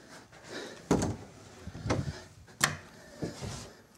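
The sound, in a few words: door being closed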